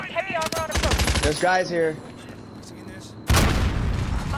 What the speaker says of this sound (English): Whoa, they're mortaring us.